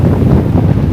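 Wind blowing across a boat in a bay, a loud, steady rumbling buffet of gusts close on the microphone, with no talking.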